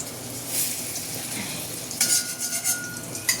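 Food fries in a black kadai while being stirred, a soft continuous sizzle under occasional scraping and clinks of a metal spatula against the pan.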